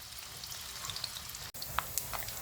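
Faint, soft sizzle of pork fat frying in a pan, a steady low crackle with a few small pops and a brief gap in the middle.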